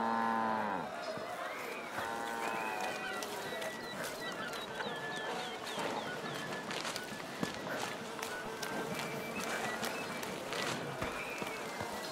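Cattle low and moo at a cattle fair in the video game A Plague Tale: Requiem, with several calls over busy crowd bustle and footsteps, and faint voices talking.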